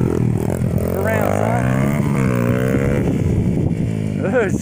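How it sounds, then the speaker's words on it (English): A 125cc pit bike engine runs loud and close, its revs rising and falling in repeated throttle blips over a steady, buzzy idle. "Had to tune the carburetor a little bit, but she is running"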